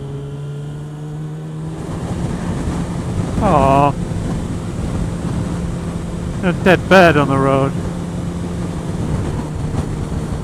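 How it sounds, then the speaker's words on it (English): Steady wind roar buffets the microphone while riding a Yamaha XJ6F motorcycle on a windy day, a low constant rush throughout with someone talking over it and brief whistling tones mid-ride. "It's very, very windy"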